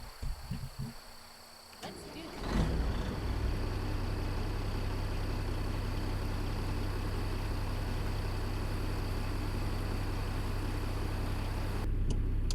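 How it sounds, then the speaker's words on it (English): A Kenworth W900 truck engine in American Truck Simulator, fitted with a modded sound set, cranks briefly, then catches and settles into a steady, loud, low diesel idle. The idle carries on unbroken with a faint extra rise near the end. "Let's go ahead and start up this truck again with this beautiful Z-Mod sound set."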